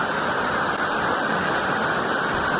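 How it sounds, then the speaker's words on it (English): Steady, loud roar of the waterfall at Edith Falls in Leliyn National Park, a constant broadband rush of falling water heard close up, with no voices over it. "I'm just going to swim over to this waterfall."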